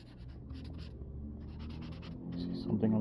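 Pen or pencil scratching across paper while comic thumbnail panels are sketched, a steady close dry scraping with short strokes and brief pauses, growing slightly louder near the end.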